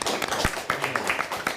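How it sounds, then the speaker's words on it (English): A round of applause for two quiz championship teams, from Traverse City and Roscommon, rises as a dense, steady clatter of many hands clapping in a room. "A big round of applause for both of our teams here in the championship."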